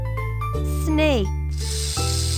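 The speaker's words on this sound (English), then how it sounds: "Snake." Cartoon snake hiss from a children's animal game, a bright spray-like hiss over a steady musical backing with a short sweeping tone, lasting about two seconds.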